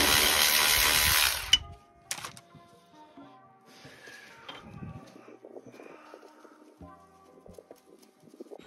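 Work on Ford Escort suspension, undoing the brake line and bolts, opening with a loud rushing tool burst and then quieter, scattered wrench clicks and metallic handling up close.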